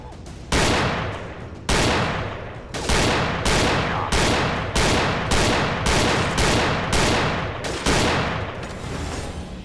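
Pistol shots ring out in the VR shooter Gun Club VR, about ten sharp, loud reports fired one after another in a steady rhythm, each with a short decaying tail.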